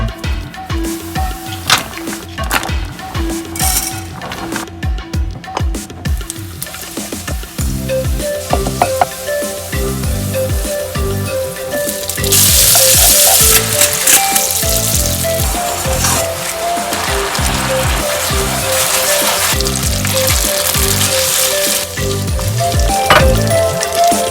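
Artichoke pesto pasta frying and sizzling in a pan, a steady loud crackle with occasional stirring and scraping running throughout, no voices.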